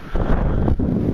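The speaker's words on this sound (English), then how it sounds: "Very windy." Strong wind roars across an open, wet, cold field beside a hedge, blasting the microphone with continuous low rumbling gusts and a brief dip midway, no talking.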